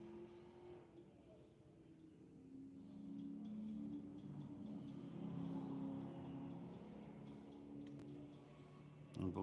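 A Corvette race car passes on a track lap at Putnam Park, its engine rising in a sustained roar through the middle and then fading, with steady mid-level engine drone throughout.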